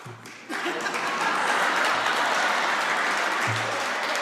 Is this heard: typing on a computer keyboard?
no